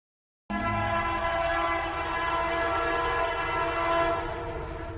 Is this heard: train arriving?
yes